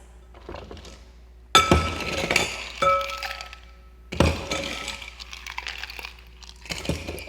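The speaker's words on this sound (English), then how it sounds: "Next, you're just going to add some ice." Ice cubes clatter into a glass for a jalapeño Moscow mule, landing in a few sharp bursts of clinks and knocks close by, with quieter rattles between them and no talking.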